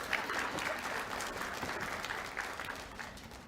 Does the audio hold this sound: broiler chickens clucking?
no